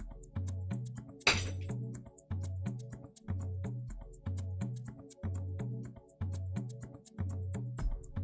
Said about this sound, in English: And I just broke a glass.